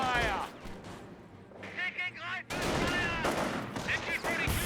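Gunfire bursts crackle through a Company of Heroes battle between Wehrmacht and US forces, sharp volleys and clatter layered with in-game unit voice lines and chatter.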